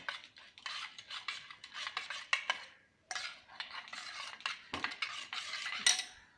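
A spoon scrapes and stirs a dry powdered mixture in a bowl, along with dried figs, giving continuous gritty rasping strokes with brief pauses and metallic clinks, close and fairly loud, with no voices.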